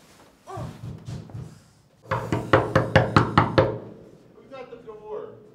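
Someone knocks on a house door at midnight: a loud, rapid series of about eight hard raps in a row, preceded and followed by people talking.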